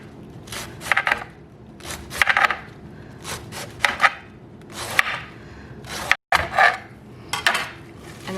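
A knife slicing cabbage finely on a cutting board for sauerkraut, a series of crisp, rhythmic strokes roughly every second, each a short crunchy scrape, close by and without speech.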